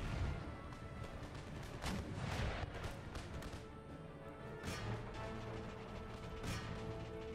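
Musket volleys in Empire Total War, a battle of massed infantry against grenadiers: fairly faint, scattered crackling bursts and thuds of distant gunfire rolling unevenly through a constant battlefield rumble.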